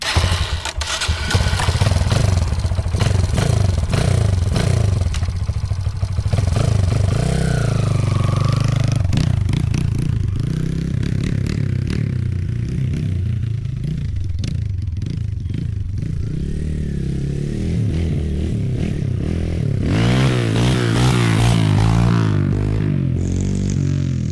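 A Kawasaki KLX140RL dirt bike engine revs loudly and steadily throughout, rising and falling as the front wheel lifts for a wheelie attempt, with clattering mechanical noise and a faster rhythmic pulsing toward the end.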